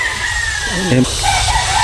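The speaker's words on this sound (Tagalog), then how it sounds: "Dahil manok." A rooster crows briefly at a farm in Santa Lucia, Dolores, the call rising once over steady outdoor background noise, with a faint voice around it and a rooster or chicken sounding again softly afterward.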